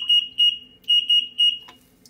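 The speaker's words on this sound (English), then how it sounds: "I'm just going to lift up on the alarm float and you'll hear the noise" A sump pump high-water alarm, triggered by lifting its float, beeps loudly in short repeated high-pitched electronic pulses, five shrill tones close by with brief gaps between them.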